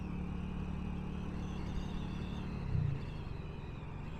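Steady road traffic hum and engine drone heard from a motorcycle riding through congested city traffic in Turkey, a continuous mid-level rumble with a brief louder swell near the end and no voices.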